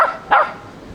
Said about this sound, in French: Il aboie après les poissons.